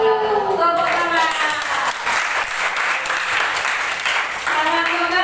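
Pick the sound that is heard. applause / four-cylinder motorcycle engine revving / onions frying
applause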